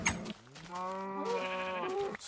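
A Minecraft sheep lets out a single drawn-out, wavering bleat, clear and close, with a couple of short clicks before and after it.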